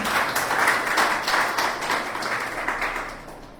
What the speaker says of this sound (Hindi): आप सभी के लिए जोरदार तालियां हो जाए।